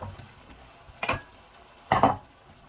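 Broccoli, carrots and beans being stir-fried for pancit canton, two separate scraping tosses in the pan about a second apart over a soft, steady sizzle.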